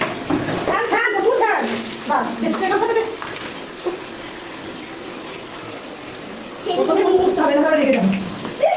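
Water runs steadily from a tap while the dog Chiku is bathed at home, the splashing flow continuing beneath lively talking voices.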